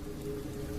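Steady rain falls in a continuous, even hiss with no breaks and no voices, sounding fairly close and filling the whole brief moment.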